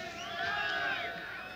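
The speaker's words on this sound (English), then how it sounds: "That cheering that you hear is for the Delta Commando team" A crowd cheers and shouts for the Delta Commando team at a tense broadcast scene, a sustained roar of many voices swelling in the middle and holding steady throughout.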